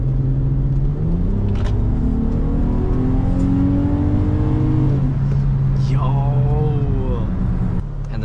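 An Infiniti G35 with its stock exhaust, before straight piping, revs up from a deep idle rumble into a rising engine note, then drops back. The sound is loud and close, with a brief higher squeal near the end.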